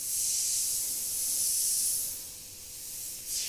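An airbrush spraying white paint at about 30 psi gives a steady, soft, high hiss that swells and dips slightly, heard alone with no voices.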